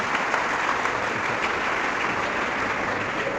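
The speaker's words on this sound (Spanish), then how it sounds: "Aplauso pues para los sacerdotes que también nos acompañan" Applause for priests joining a Catholic debate gathering led by Father Luis Toro, steady and dense from a large audience throughout, with no voices on top.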